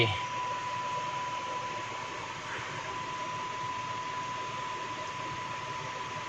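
Car air conditioner running on inverter power with the engine off, a steady broadband fan-like whir holding evenly throughout, with a faint steady tone underneath and no other sounds.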